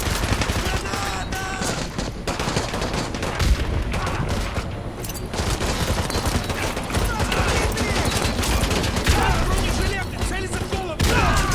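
Sustained rapid gunfire in Call of Duty Modern Warfare 2 Remastered, dense automatic bursts and booms running continuously and loud, with players talking over the shooting.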